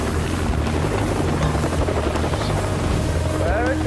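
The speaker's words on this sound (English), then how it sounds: "The helicopters were starting to pitch" Helicopters hovering over a stunt competition, a loud steady rotor thrum and whine filling the whole stretch with a faint tone near the end.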